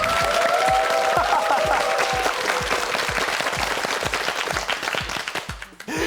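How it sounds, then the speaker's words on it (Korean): A studio audience on a Korean TV word quiz show claps warmly, a dense, rhythmic patter of many hands with a high cheer early on, continuing for several seconds before tapering off. "네, 박수 보내주세요."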